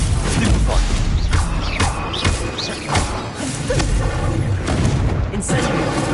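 Incendio fire spell cast in a Harry Potter-style wizarding game on PS5, loud booming bursts and whooshing blasts layered with game effects and a spoken voice.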